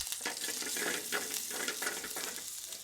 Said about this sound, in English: Add 1 whole dried red chilli and 1 pinch of cumin seeds to the oil.